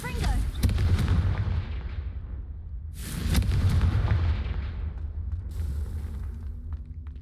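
Two loud blasting spell explosions from Confringo in the Hogwarts Legacy game, each a sharp boom with a long decaying rumble. The second blast comes about three seconds after the first.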